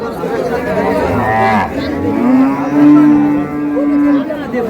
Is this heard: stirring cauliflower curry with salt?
no